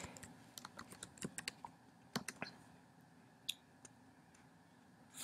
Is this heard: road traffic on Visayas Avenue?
no